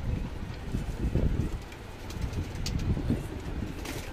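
A Madrasi pigeon coos nearby in soft, low, repeated throaty calls over a faint background hum.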